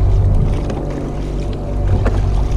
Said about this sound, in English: sounds like the resistance of the water is making it a bit difficult for the motor to turn